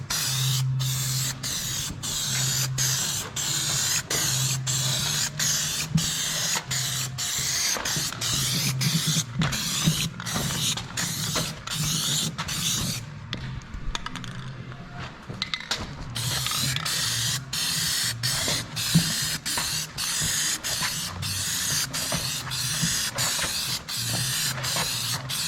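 Spray paint hisses onto a wheel rim from a Sunflower 6630 vertical tillage tool in a run of short, evenly repeated bursts, close and steady, with no talking.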